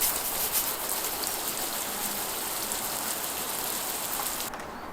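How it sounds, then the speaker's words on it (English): Water poured over a hawthorn bonsai in its pot, rinsing grit from pumice soil, gives a steady close splashing and trickling wash like heavy rain, holding even throughout before easing slightly at the end. "And then the other thing to do now is to give it a good water."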